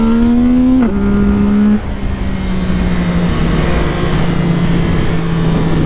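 A CFMOTO 675 SR-R supersport motorcycle engine revs hard up to its limiter, then drops and settles into a steady high drone, loud and close with no talk.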